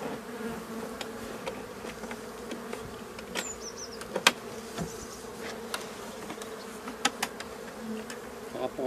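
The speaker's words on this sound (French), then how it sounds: "On ne dérange pas trop les abeilles." Honey bees buzz steadily around an open hive during work to replace the hive floor in early March, a dense, continuous drone with occasional individual bees passing close, no voices.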